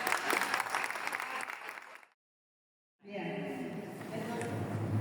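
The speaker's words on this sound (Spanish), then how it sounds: "Bueno, un aplauso." Audience applause at an education event in Bahía Blanca, a dense crowd clapping loudly, cutting to silence midway for about a second, then resuming just as steadily.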